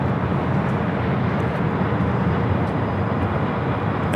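A passenger jet departing Los Angeles International Airport for Seoul, a steady broadband engine roar holding at constant loudness throughout with no voices.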